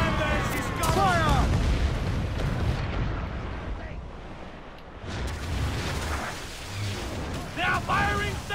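Ship cannons fire in Assassin's Creed IV: Black Flag, with deep rolling booms and rumbling impacts through much of the stretch, mixed with shouted voices and other battle noise.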